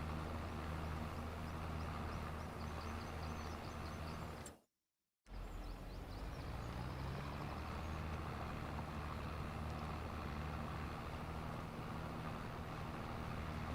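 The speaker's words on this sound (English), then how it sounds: "Oh, this tractor needs a massive service." A tractor engine runs in the Farming Simulator 25 game, a steady low mechanical drone with a faint whine above it, broken by one brief dropout partway through.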